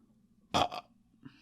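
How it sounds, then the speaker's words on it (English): A loud, close burp, a single guttural eruption with a short second pulse, then a faint trailing sound in a quiet room. "I'm about to burp."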